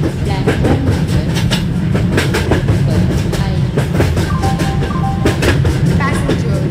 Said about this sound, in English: Tejas Superfast Express is arriving.